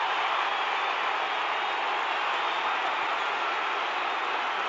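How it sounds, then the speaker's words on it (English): A packed stadium crowd at a 2012 Collingwood v Essendon AFL match roars steadily just after a goal, a dense, continuous wall of noise heard thin and narrowed as over a radio broadcast. "Listen to the crowd. It is extraordinary."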